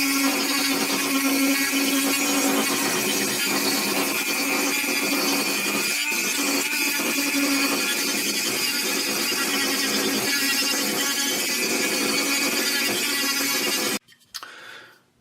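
Cork is scraped and cut away from a Black Diamond Alpine Carbon trekking pole handle, a dense continuous rasping tool noise lasting about fourteen seconds before cutting off abruptly, with no talk.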